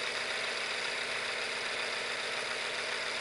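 A Visible V8 model engine turns over slowly with a steady, dense mechanical whir and a continuous light rattle, close up and even in level throughout, with no voices.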